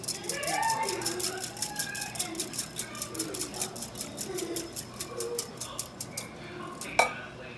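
A spoon stirs and scrapes in a pot of beef stew seasoned with salt, a steady rhythmic clinking throughout, ending with a sharper knock, while a person talks softly over it.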